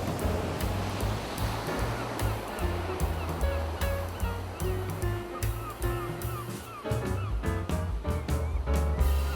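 A big ocean wave crashes and surges in an animated children's story about seagulls, a rushing wash of surf beneath a steady rhythmic music bed with bird-like calls.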